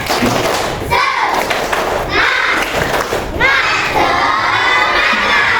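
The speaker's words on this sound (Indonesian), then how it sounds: "Sekali lagi, tepuk semangat." Fourth-grade schoolchildren in a classroom repeat a clapping chant, loud and energetic, with overlapping shouted voices and crisp claps and thuds in quick rhythmic bursts.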